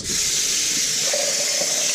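Cold tap water running over a whole raw chicken in a sink, a steady close rush and splash that continues throughout the short stretch.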